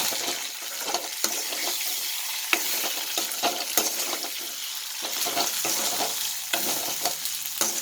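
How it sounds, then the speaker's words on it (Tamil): Anchovy dry fish sautés in a pan with a continuous sizzle, while a spatula scrapes and stirs it in irregular strokes, close up with no talking. "நெத்திலி கருவாடை வ வதக்கிட்டு இருக்கேன்"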